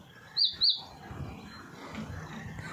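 Two quick high chirps from swallows ring out near the start over a quiet outdoor background with faint low noise, in spring in a town with insects swarming.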